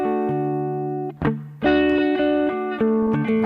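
Sustained guitar chords run through the reverb of an Elevate effects pedal, ringing with a lush tail, cut briefly by a pluck and re-struck, then continuing with changing notes near and loud.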